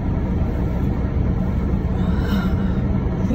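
A low, steady engine rumble fills a car cabin while driving on a freezing cold morning, a constant road drone with no voices.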